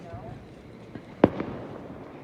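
Fireworks go off during a grand finale display in the night sky. One distant bang stands out, followed by a couple of smaller pops, with faint voices murmuring underneath.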